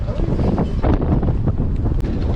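A strong gust of wind buffets a boat with a broken-down outboard motor, a loud, continuous roaring rush close to the microphone.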